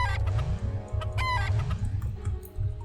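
In an RPG Maker recreation of Persona 4, a chicken clucks several times in quick succession, close and loud, with a crow-like call rising through the middle and no voices.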